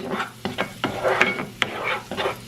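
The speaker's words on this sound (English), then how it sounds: "And we're just going to saute this for about a minute." Garlic and crushed red pepper flakes sautéing in a pan, with a string of close stirring scrapes and soft sizzle bursts coming in quick uneven strokes, no voice over it.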